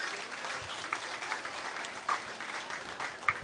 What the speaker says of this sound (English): Let's give all those people a big round of applause